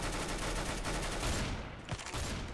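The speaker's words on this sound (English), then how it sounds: "I got a burst fire." Burst-fire gunshots in Counter-Strike: GO, a dense rapid volley of loud game gunfire that fills the clip and trails off near the end.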